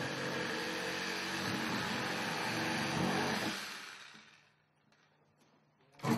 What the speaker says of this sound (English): Use a Sawzall to cut off the top of the boot.